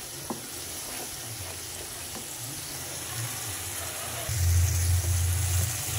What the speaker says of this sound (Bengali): মশলাটাকে সুন্দর করে তেল ছাড়া পর্যন্ত ভুনা করতে হবে।